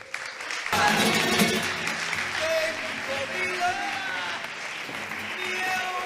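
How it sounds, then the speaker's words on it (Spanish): Audience applause for an artist being introduced at a Spanish-language talk, a sustained burst of clapping from the crowd that starts abruptly and holds steady, with voices mixed in. "por favor, un aplauso para Greta Alfaro."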